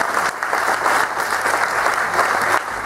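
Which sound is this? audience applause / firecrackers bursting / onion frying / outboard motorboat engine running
audience applause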